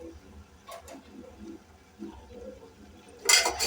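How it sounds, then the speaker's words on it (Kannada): Mutton broth for a Muslim-style mutton saaru boils in a pot with a low, steady watery bubbling up close, ending in a brief louder hissing splash. "ನೋಡ್ರಿ ಈಗ ಈ ಥರ ಕುದೀತಾ ಇದೆ."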